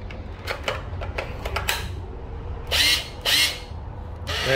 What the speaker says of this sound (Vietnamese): Đây là khoan thường nha các bạn.